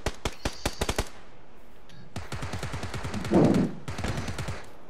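PUBG gunfire on PS4: a quick burst of close, sharp shots at the start, then a longer stretch of rapid automatic fire with a louder thump partway through, no talking.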